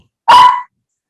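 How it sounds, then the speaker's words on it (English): A single loud dog bark, sharp and close, in a quiet indoor room with nothing else heard. "What is Cora barking about?"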